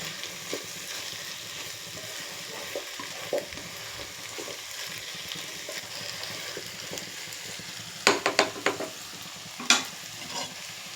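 Cucumber and dried prawn curry sizzles gently in a pan while a spoon stirs it, with a steady frying hiss and a few sharper scraping clatters toward the end.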